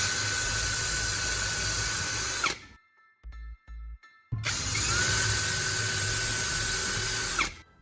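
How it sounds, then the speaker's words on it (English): A power drill drilling small holes through wood pieces whines loudly and steadily, stops briefly with a few small clicks, then spins up again for a second long burst. "Pick up the drill again and drill one small hole through each wood piece near the top."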